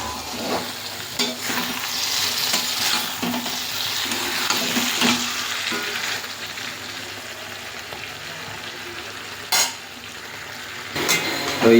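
Mutton and mushrooms stirred and fried in a pan, a steady close sizzle with scraping stirs and occasional louder clatters throughout, no talk.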